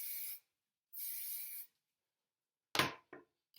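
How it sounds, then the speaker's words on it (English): Two short hissing bursts from a hair spray can misting product onto hair, close and clear, followed by a brief rustle of hair being handled and touched, with no talking. "I'm going to spray it a little bit more."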